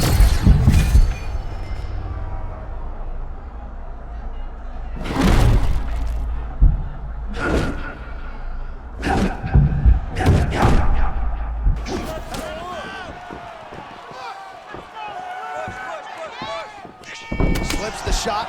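Heavy punches land in a UFC 6 video game bout, several loud thudding impacts scattered irregularly over crowd noise and arena ambience, with commentators talking throughout.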